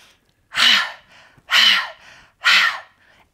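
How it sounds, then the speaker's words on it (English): Three forceful, evenly spaced breaths during an anxiety-release breathing exercise, each a sharp, close, loud rush of air followed by brief quiet. "you're gonna breathe in really deep, and then you're gonna breathe out with short breaths"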